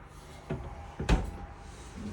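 An RV kitchen drawer for pots and pans in a 2022 Forest River Salem Hemisphere 22RBHL travel trailer slides and knocks shut, with two soft thumps followed by a sharper, louder bump, close and with no talking.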